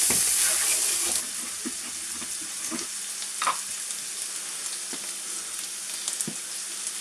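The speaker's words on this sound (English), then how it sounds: "when you make a roux, gravy, cook the flour out for a minute or two" Flour and stock cook into a roux for gravy in a kitchen pan, giving a steady frying sizzle that is loud at first, then settles softer with faint scrapes and clinks.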